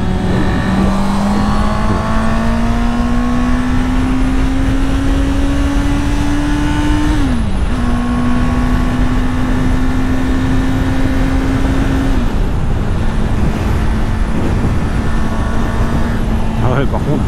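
A 2022 Honda CB650R motorcycle engine pulls through its gears while riding, the loud whine rising steadily with brief dips at each shift, mixed with wind roar and a rider talking over it.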